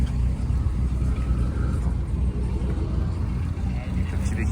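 A Mercedes C63 AMG with its 6.3 V8 idles nearby, a steady deep rumble held throughout with faint background noise.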